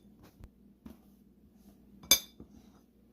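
A utensil clinks against a bowl while coleslaw is mixed, with a few soft taps and one sharper bright clink, close and quiet with no voices.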